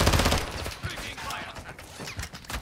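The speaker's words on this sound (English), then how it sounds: "Is that you shooting?" Gunfire in a battle royale video game, a rapid cluster of shots up front followed by scattered quieter reports at middle distance, with a few mechanical clicks in between.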